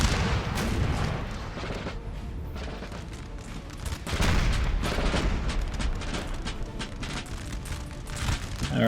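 Napoleon: Total War battle din, with continuous rumbling artillery fire and booming volleys layered into a dense, loud wash of cannon and musket noise.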